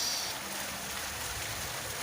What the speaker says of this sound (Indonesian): ada taman air terjun buatan yang cukup bagus.